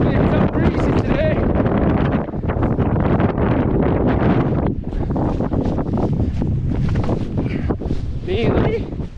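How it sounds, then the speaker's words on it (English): Strong wind buffets the microphone on Loft Crag, a fell top in the Lake District, in January, roaring steadily and close with gusting surges throughout; a person speaks under the noise. "definitely a bit breezy today"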